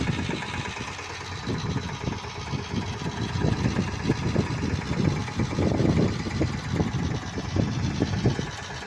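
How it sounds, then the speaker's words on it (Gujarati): A tractor engine chugs steadily as the tractor turns in a field, a rapid rhythmic mechanical knock holding at a fairly loud, close level throughout. "જો જો પાછા આગળ હજી તો ટ્રેક્ટર વાળે છે"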